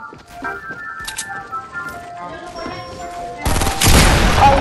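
Video game gunfire in a chaotic match: scattered shots ring out among tonal jingly game sounds, then a dense, loud rapid burst of fire takes over toward the end.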